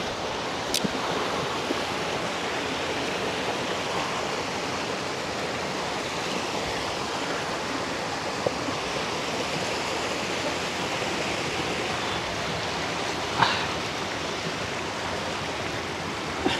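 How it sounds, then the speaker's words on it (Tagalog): Water rushes and flows steadily at a river near Ambon-Ambon Falls in Alfonso, Cavite, a constant broad roar close by with occasional small splashes and no talk. "Maganda na agos ang tubig dito."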